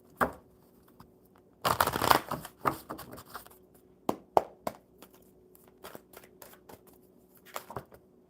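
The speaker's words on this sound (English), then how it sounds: "One more good shuffle." Stiff oracle cards being shuffled by hand in a dense riffling burst near the start, followed by scattered crisp flicks and taps of the deck, close and fairly quiet.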